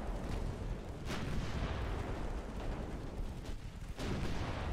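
Heavy 11-inch naval guns boom again and again in Ultimate Admiral Dreadnoughts, a steady rumble of deep artillery blasts with a few sharper reports standing out, no voice over it.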